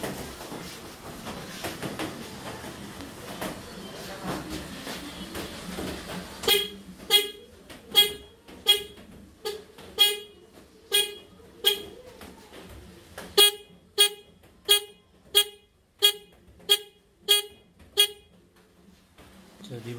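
An aftermarket magic horn fitted on a Suzuki Burgman EX 125 scooter, sounding a rapid series of loud, close, short honks in two rhythmic bursts after a stretch of quiet talk and handling noise.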